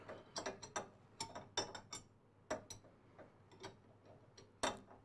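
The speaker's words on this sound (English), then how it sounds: "when you're taking the nut off, changing your blade, keep your hand over the nut and finger underneath as you're undoing it" A wrench ratchets off the arbor nut of a saw while the blade is being changed, giving a run of sharp, close mechanical clicks in irregular bursts with short pauses between them, and no talk.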